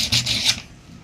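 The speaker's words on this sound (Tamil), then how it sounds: "நம்ம கொஞ்சம் லைட்டாக பாலிஷ் பண்ணிட்டா இதுவாக இருக்கும் ராடு" A metal rod being lightly polished gives a brief, close rasping rub that lasts about half a second and then fades.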